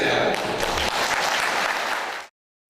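An audience at a Brahma Kumaris gathering breaks into loud, dense applause that carries on steadily before cutting off abruptly into silence.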